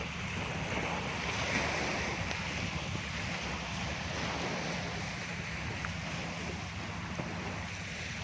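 Waves wash onto the beach at Tanjung Uma, Batam, across from Singapore, as a constant loud surf rush mixed with wind buffeting the microphone, with no break in the noise.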